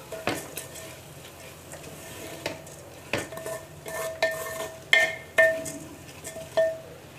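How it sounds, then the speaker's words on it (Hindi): Rice and vegetables are stirred with a metal spoon in a pressure cooker, with intermittent scraping strokes and clinks against the pot, close and fairly soft, over a faint sizzle. "आप चावलों को हल्के हाथ से चलाएं"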